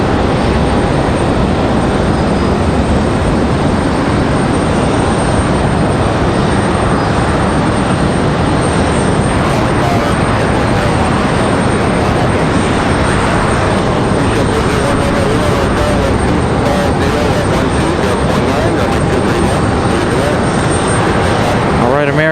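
An American Airlines Boeing 737 jet on the move at Raleigh-Durham airport, a loud, steady broadband engine roar filling the whole stretch, with a voice talking over it.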